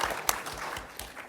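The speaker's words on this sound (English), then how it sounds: "Let's give Mark a Yeah, round of sorry. applause for that." An audience at a Goofy Movie and voice acting fan convention panel gives sparse, scattered applause, with a few sharp, fairly close claps standing out over a quiet room.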